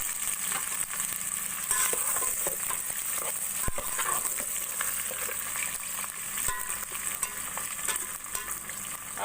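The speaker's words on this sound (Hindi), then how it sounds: "अब इस प्याज को मैं ब्राउन कर लूँगी।" Long-sliced onions fry in heated cooking oil, a steady, close hiss and crackle with occasional stirring clinks as they brown, with no speech over it.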